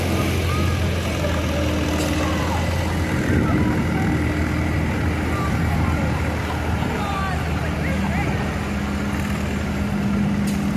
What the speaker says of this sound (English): here goes Mitchell Hilt on a 1936 Huber that he says has been specially upgraded for tractor pulls.